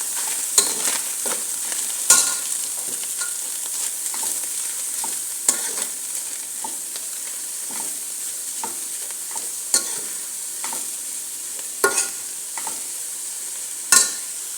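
Carrots stir-fried in a pan as spring roll filling, a continuous sizzle broken by frequent sharp scrapes and clinks of a utensil against the pan, close and fairly loud, with no talking.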